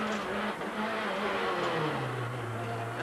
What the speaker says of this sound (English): Justin Dale is just throwing this Peugeot round this stage